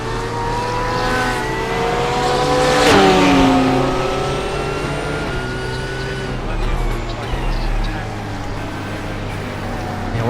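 GT3 race cars roar around a track in iRacing, a BMW among them, with a loud engine note rising and falling through gear changes and a brief pass in the middle, under continuous commentary.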